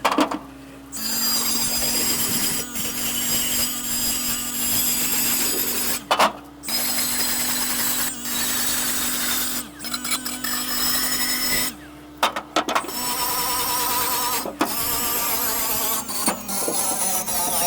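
A heavier-duty wire wheel scrubbing the combustion chamber of an Aqua Hot heater on a Monaco motorhome, a loud steady whirring grind broken by a few short pauses, no talk.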